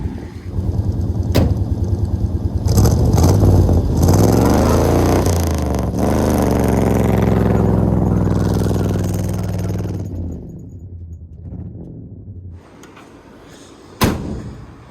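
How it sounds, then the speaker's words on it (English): Engine of a 1974 International pickup revving hard under heavy throttle, a loud sustained roar with rising and falling pitch that fades out near the end, followed by a single sharp knock. "I'm not going to touch the brakes, and I'm going to give a lot of throttle."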